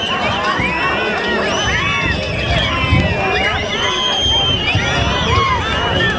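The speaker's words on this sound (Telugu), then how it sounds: "ఒకసారి విజిల్లు కేరింతాలు రావాలి" A large outdoor crowd at a 2019 bull show in Putlur fills the air with a dense, steady roar of voices, shouts and cheering, with scattered high whistles rising above it throughout.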